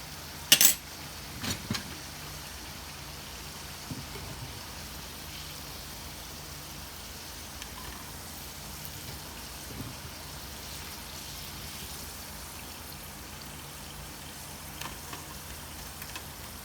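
Catfish pieces deep-frying in hot oil for Southern fried catfish give a steady, soft sizzling hiss throughout, with a few brief crackles near the start and no talking.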